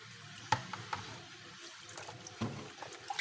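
Quiet splashing and dribbling of water as malunggay (moringa) leaves are washed by hand in a basin, with a few soft sharp clinks and swishes scattered across the clip.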